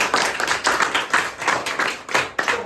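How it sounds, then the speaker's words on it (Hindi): A classroom of sixth-grade students claps together in a short burst, a dense, loud patter of many hands rising and falling in waves with no voices over it. "इसके लिए तालियां बजाओ।"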